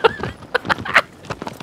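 A horse in Shadow of the Colossus (Remastered) neighs loudly up close, followed by rhythmic galloping hoofbeats and further whinnying tones.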